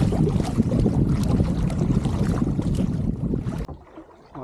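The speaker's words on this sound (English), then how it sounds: "There was bloody chop coming over the bow." Wind-driven chop slaps against a small boat's bow at Wingan Inlet, where the incoming tide runs against the wind. A dense, constant rush of water and wind buffeting roars close and loud, then drops away suddenly near the end.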